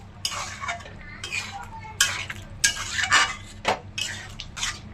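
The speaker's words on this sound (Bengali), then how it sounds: "এখন নাড়িয়ে চাড়িয়ে নামিয়ে নিচ্ছি।" A spoon stirs and scrapes through a soybean and potato curry in a pan in repeated clattering strokes, near and clear over a low kitchen hum.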